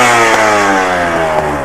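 An Aprilia RS 457 motorcycle engine revs loud and close, a steady buzzing roar with strong harmonics, holding high with slight dips and surges throughout, no voices over it.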